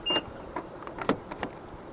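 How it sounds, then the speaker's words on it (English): Pressing the black keyless-entry button on a front door handle of a 2021 Nissan Almera 1.0 Turbo VLT produces a short beep and a few quick mechanical clicks and thuds as the doors lock. "To lock the car, press the black button on any of the front door handles."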